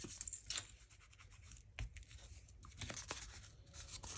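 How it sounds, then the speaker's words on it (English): Crisp paper handling while making a small purse-sized journal insert: a sheet folded in half and creased, with scattered crinkles and sharp rustling strokes, close and fairly quiet, with no speech. "fold that in half, put it where I want it, and then fold it"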